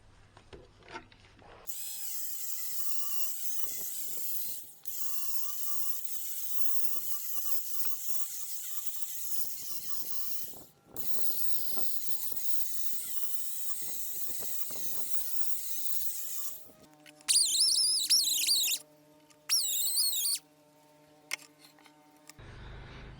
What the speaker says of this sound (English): I'm just going to go mad on it with a wire brush